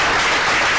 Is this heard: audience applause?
yes